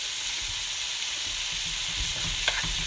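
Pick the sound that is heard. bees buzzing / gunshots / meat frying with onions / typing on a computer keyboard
meat frying with onions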